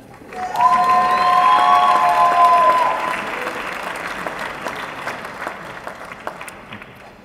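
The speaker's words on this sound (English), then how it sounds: "Please join me in a round of applause for the 2015 FT MBA program winners" Loud crowd applause at a graduation ceremony swells quickly and holds for a few seconds, then thins into scattered clapping; a brief sustained tone rings near the start.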